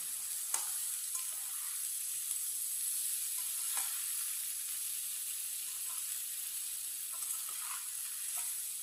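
Okra and egg mixture being stirred in a pan over low heat, giving a steady soft sizzle with occasional scrapes and taps of the spoon, close and alone without talk.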